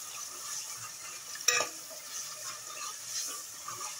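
Masala for red chickpea curry roasting in a pan, a quiet sizzle with one sharp clack of a spoon against the pan near the middle, followed by light scraping.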